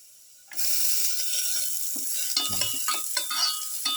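Garlic is dropped into a hot pan and bursts into a sudden loud sizzle after a quiet moment, then keeps crackling steadily with a few stirring clinks.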